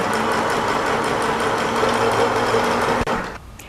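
A sewing machine stitching flexi lace runs in a steady, fast mechanical whir for about three seconds, close and clear, then stops abruptly with a soft thunk and leaves faint quiet behind.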